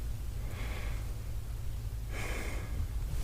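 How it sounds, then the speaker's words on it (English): Two deep breaths from a patient during a doctor's lung exam, each a soft airy inhale lasting under a second, close and quiet over a low steady hum. "And then behind you, take a deep breath."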